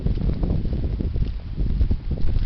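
Wind blows outdoors in dark, cold weather, a low buffeting rush gusting against the microphone in uneven surges, heard alone without any talking.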